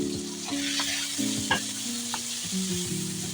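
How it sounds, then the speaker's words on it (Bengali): Chicken seasoned with salt and black and white pepper fries in a pan, giving a loud steady sizzle with a few clinks and scrapes of stirring; a faint steady tonal hum runs underneath. "একটু নাড়াচাড়া করে করতে থাকি।"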